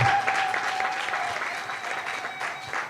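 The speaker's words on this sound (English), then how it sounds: "we need to give a round of applause for what is here today" Conference audience at an African debt and development meeting breaking into a round of applause, a full, even clatter of many hands in a hall that tapers slightly, with a faint tonal hum beneath.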